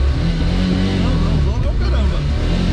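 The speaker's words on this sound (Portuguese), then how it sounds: "Isso tá é barulhinho bom. De motor saudável." Diesel engine of a cheap project car idling and revving, with a loud, rough low rumble running steadily under people talking close by.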